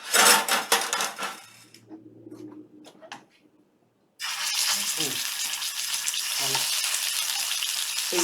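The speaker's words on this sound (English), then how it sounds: "So you just browning the meat on both sides for a little bit." Pork tenderloin sizzles and browns in a hot pan, a loud steady hiss that starts suddenly after a few quiet clinks of utensils, with brief speech near the start.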